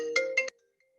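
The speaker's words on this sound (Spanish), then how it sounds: "Teléfono replicando." Telephone ringtone sounding in two short electronic bursts, loud and close, cutting off abruptly and followed by near silence.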